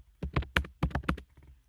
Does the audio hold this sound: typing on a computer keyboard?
yes